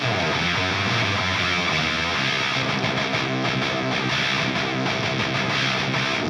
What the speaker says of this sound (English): So here's what the Vezzpa sounds like all by itself.